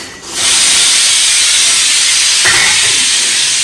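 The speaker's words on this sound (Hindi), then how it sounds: "तब तक सीटी पड़ रही है" A pressure cooker's whistle releases steam in a loud, steady, close hiss in a home kitchen. The hiss starts abruptly and carries on continuously.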